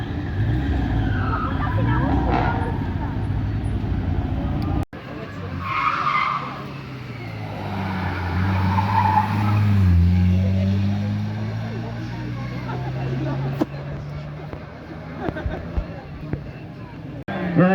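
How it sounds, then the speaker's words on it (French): Historic hill climb race car burning its tyres, a loud sustained engine roar with skidding squeal and crowd murmur around it, a sharp break near five seconds before the racket resumes. "Ils vont brûler ces pneus."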